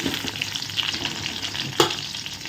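Onions sautéing in a pan for a drumstick curry give a continuous, loud, close sizzle, with soft stirring scrapes and one sharper clatter partway through; no one speaks.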